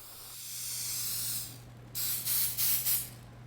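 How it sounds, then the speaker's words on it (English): Cooking spray coating an electric griddle heated to about 350 degrees: one long hiss followed by four short bursts, close and loud over a steady low hum. "heat up an electric griddle to about 350 degrees and coat it with cooking spray"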